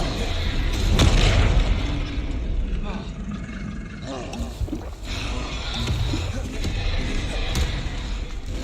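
A Confringo blasting spell in Hogwarts Legacy goes off with a heavy boom, followed by rumbling bursts and impacts under a voice talking.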